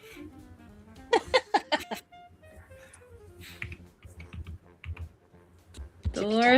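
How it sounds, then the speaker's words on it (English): Keyboard typing heard during a tabletop horror role-playing session: a few close bursts of sharp clicks, with speech and background chatter around them. "Your keyboard's too loud, I can tell."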